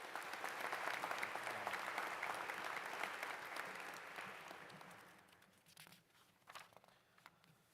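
Graduation commencement audience applauding to welcome the stage party, a dense roar of clapping that holds steady for several seconds, then thins out into scattered individual claps as it fades.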